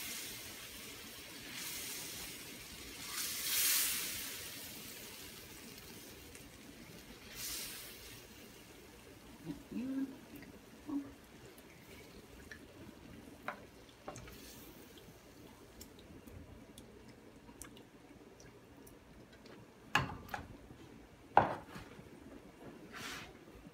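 Food stirred in a pan for a hot roast beef sandwich: soft scraping and wet shuffling under a low steady hiss, with scattered light knocks and taps of a utensil against the pan, quiet and close.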